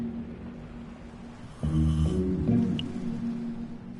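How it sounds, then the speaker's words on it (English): A cartoonish snore from a character in the video game Minecraft: Story Mode, a low rumbling, drawn-out breath that begins abruptly midway and holds steadily for a couple of seconds over a quiet game background. "even his snore makes him sound like a know-it-all"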